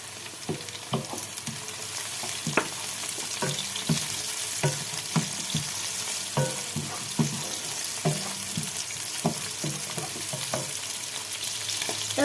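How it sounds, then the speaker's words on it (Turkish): Onions sauté in oil in a pan, giving a continuous close sizzle broken by frequent clattering stirs of a utensil against the pan. "soğanlarımızı koyduk. Kavruluyor."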